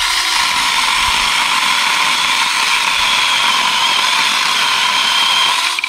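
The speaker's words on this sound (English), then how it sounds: "We've got our little saw, and we've got a Lilac. Let's see how it does." A Saker mini chainsaw cuts through a lilac branch with a steady, loud, high-pitched buzzing whir that holds unbroken for several seconds before easing at the end.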